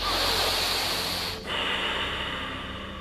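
A long, deep breath drawn and released while sitting tall in a seated yoga pose, a loud, airy rush close to the mic that eases off briefly midway, with no talking.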